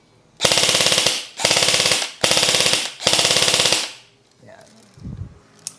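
Four bursts of rapid automatic fire from a noisy airsoft gun, each about a second long with short pauses between, loud and close, followed by faint handling sounds.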